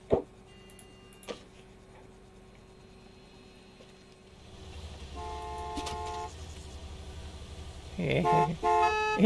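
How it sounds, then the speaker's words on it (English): Car horns honking in the Gas Station Simulator game, short toots and a run of repeated honks rising toward the end over a low engine hum and faint ticking. "I love how they honk at you"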